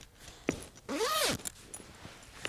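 A zipper drawn along the vinyl inside pocket of a sewn bag: one quick, close, rasping pull of about half a second, framed by light handling taps.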